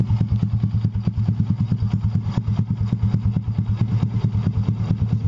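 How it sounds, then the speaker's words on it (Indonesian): Motorcycle engine fitted with a Honda Revo CDI unit, running steadily at idle close by with a rapid, even chugging pulse and slight mechanical clatter, no talking. "Motor sudah menyala nih"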